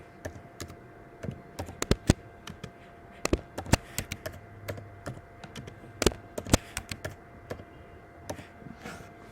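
Fingers tap out irregular bursts of clicks on a computer keyboard while entering a name into an online home self-enumeration form, close and fairly quiet in a still room.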